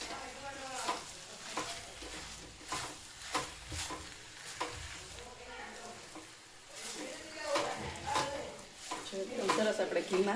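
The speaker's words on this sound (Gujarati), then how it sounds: "એકદમ સરસ આપણે ઘીમાં બ્રાઉન થાય ને એટલી વાર શેકાવા દઈશું." Mawa roasting in ghee in a pan, soft frying sizzle with repeated stirring scrapes and spatula knocks, rising toward the end, with a voice speaking intermittently over it.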